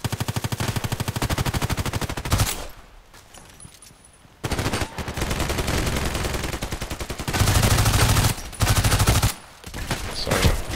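PDR-C automatic gunfire in the shooter video game Contract Wars rattles in loud, rapid bursts, several long strings of fire separated by brief pauses, close and dominant with no talk.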